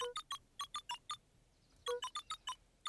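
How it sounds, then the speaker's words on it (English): Short electronic keypad beeps from the video game Beacon Pines as letters are entered, two quick bursts of about six evenly spaced tones each, separated by a brief pause, clear and alone. "Cracked his knuckles and entered the letters into the keypad."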